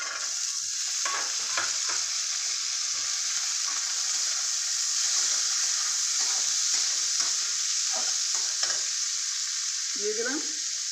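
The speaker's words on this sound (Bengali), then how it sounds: "এবার আমি এই সিম বিচিগুলো দিয়ে দিলাম।" Bean seeds tipped into a hot frying pan for a spicy dried lotte fish dish give off a loud, constant hiss of frying oil, with soft stirring knocks scattered through it and a brief clatter near the end.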